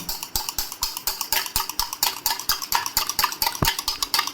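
A fork or whisk beats an egg in a bowl with a quick, even rhythm of sharp clinking strokes, close up and alone, about five or six strikes per second.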